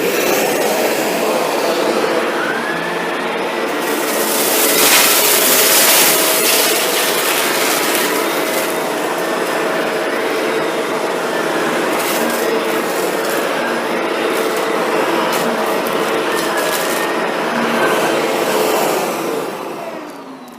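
Shark NV752 vacuum cleaner running with its brush bar engaged, a steady loud motor whine and airflow roar that holds for about twenty seconds before easing off at the end.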